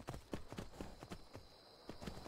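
A horse in the Skyrim video game trots along with rhythmic, fairly close hoof clip-clops, several hooves striking in an uneven gait over a quiet background.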